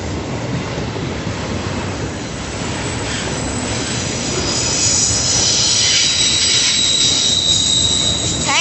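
CSX locomotive 1776 leads a freight train of tankers and grain cars rolling steadily past, wheels squealing and grinding on the rails, loud and continuous with no voices.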